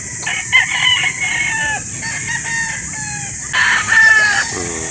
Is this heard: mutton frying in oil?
no